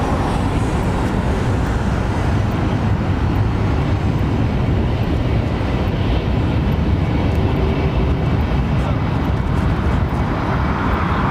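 An airliner departs from London Heathrow Airport at full throttle. A broad, continuous engine roar with heavy low rumble stays loud and steady throughout, with no talk over it.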